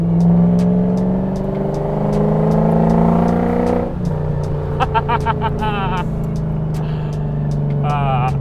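A drift truck engine revs and drones while driving, the pitch climbing then dropping as it shifts, with people talking over the motor noise.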